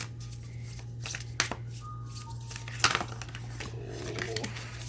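Spell cards are shuffled and drawn by hand, giving soft riffling, crinkly rustles and a couple of sharper snaps, close and fairly quiet, with no talking.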